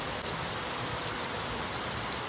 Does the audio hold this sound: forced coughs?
no